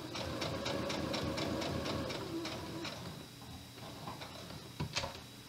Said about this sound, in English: Now I'm going to sew diagonal,